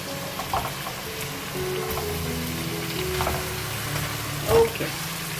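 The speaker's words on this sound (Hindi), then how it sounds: "अच्छा सा फ्राई करेंगे हम चिकन को इसके साथ" Chicken frying in oil in a pan for spicy Sindhi biryani, a steady crackling sizzle with occasional louder pops and stirring clinks, no voices.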